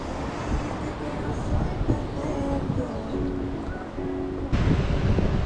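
Ocean waves at Parque Colon beach in Aguadilla, a steady broad wash of surf mixed with wind noise on the microphone, continuous and fairly loud with a swell near the end.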